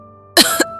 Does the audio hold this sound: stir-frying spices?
no